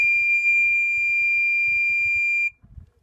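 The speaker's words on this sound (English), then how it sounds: "with your key, you're going to give an eighth turn to the right and you'll hear a loud beep like this" A loud, steady electronic beep sounds when the ignition key of a patrol boat is turned, holding for about two and a half seconds and then cutting off, with faint low rumble underneath.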